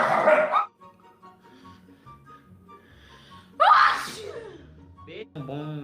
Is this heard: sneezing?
yes